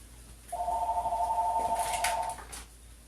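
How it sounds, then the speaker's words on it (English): A phone rings once in a kitchen, giving a steady electronic tone that lasts about two seconds before it cuts off, with faint handling clatter after it. "oops, there's my phone"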